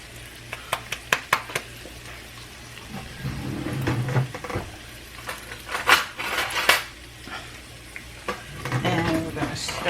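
Spoon stirring grits in a pot, a series of light scraping and clinking strokes close by, with a soft bubbling simmer underneath and a few brief sharp taps between the strokes.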